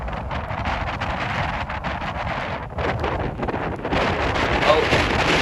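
Strong wind buffets the microphone at Manchester Airport, a steady loud rumbling roar that swells and gusts throughout as a British Airways plane comes in to land.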